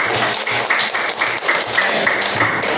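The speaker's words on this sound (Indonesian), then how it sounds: "berikan tepuk untuk Ayu" Classroom of primary school pupils clapping for a student after her presentation, a dense steady patter of many small hands close by, lasting throughout at even loudness.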